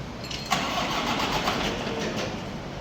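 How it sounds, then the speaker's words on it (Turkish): A Temsa Safir Euro 5 bus engine with automatic ZF transmission cranks and catches, then settles into a steady low diesel idle rumble, heard close with no talking. "Motor sesini bir dinleteceğiz."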